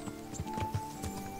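A horse in Kingdom Come: Deliverance clops its hooves in a few close, distinct steps, joined by a short whinny, set against a faint steady game hum with no speech.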